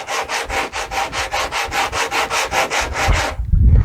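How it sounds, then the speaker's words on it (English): Sandpaper rubs back and forth over a rough-textured wooden dinghy edge in about fourteen even, rhythmic strokes, loud and close, before stopping near the end as a faint low rumble takes over. "It does, when you sand it, it does smooth out the edges quite a bit"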